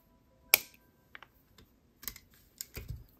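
Wire cutters snip excess jewelry wire on a gemstone bead necklace, a single sharp, close click followed by faint small ticks and light handling taps, quiet and with no talking.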